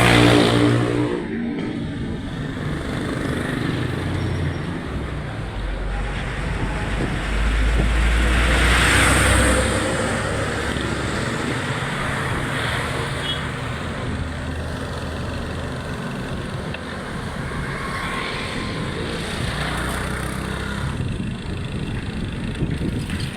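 Steady roar of passing highway traffic with wind rushing over the microphone while riding a bicycle, a louder vehicle swelling past midway, continuous and fairly close throughout.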